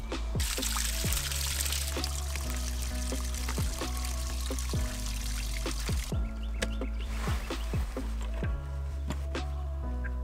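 Water from a hose runs to flush a Mercury outboard motor that has a poor-idle problem, making a continuous pouring and splashing sound with a few faint chirps in the background.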